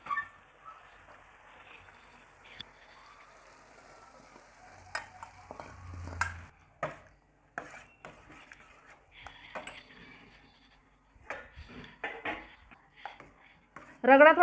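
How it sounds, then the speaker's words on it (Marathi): Fried masala is stirred into ragda, a street-style chaat curry, in a pan. A spoon scrapes and clinks against the metal in irregular bursts with a soft sizzle underneath, and someone talks at times. "आता मी हा मसाला रगड्यामध्ये टाकून देते."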